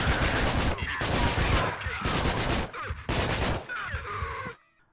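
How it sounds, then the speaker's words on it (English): Gunfire from firearms in Manhunt, a gritty survival horror game on PlayStation 2, loud dense bursts of rapid shots in several volleys with brief gaps, ending abruptly into near silence. "There are firearms in the game too that you can use, and these range from nail guns to revolvers to shotguns,"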